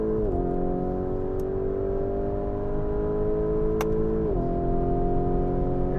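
A Lamborghini Urus engine pulls hard under acceleration with a steady droning note that climbs, drops briefly at two paddle-shifted gear changes, then climbs again, loud and close throughout.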